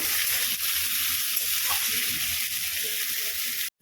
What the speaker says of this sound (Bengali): পেঁয়াজটা ভালো করে ভেজে নিয়ে দেবো আলু এবার দিয়ে দেবো কেটে রাখা দিয়ে ভালো করে ভেজে নিচ্ছি